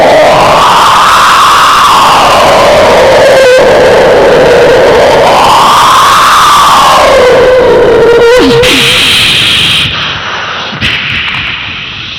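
A human voice mimics a cyclone wind blowing at 250 km/h with a loud howling tone that swells and sinks in slow waves over rushing noise, breaking into higher whistling gusts near the end.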